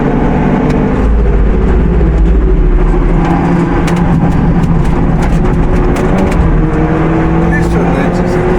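Fast race cars, including a BMW and GT3 cars, roar around the Nürburgring, with loud continuous engine drone and passing surges alongside someone speaking throughout.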